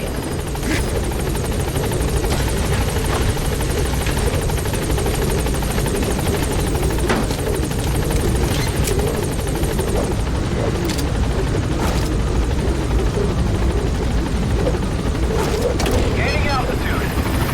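Pequod helicopter arriving at the landing zone in Metal Gear Solid 5, a loud, close, constant rotor roar and engine rumble running throughout, with occasional sharp bangs and voices over it.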